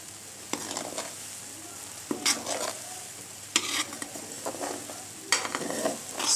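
Ghee sizzling and bubbling in a very hot pan after the flame is switched off, with soft crackle and several sharp spoon scrapes and stirring clatters against the pan at irregular intervals, close and moderately loud.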